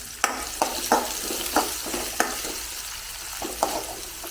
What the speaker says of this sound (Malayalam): ഇനി നമുക്ക് അതിനകത്തേക്കൊരു 4-5 ചുവന്നുള്ളി, വലിയ ചുവന്നുള്ളിയാണ്, അരിഞ്ഞ് അങ്ങോട്ട് കൊടുത്ത് അതിനെ ഒന്ന് മൂപ്പിച്ചെടുക്കണം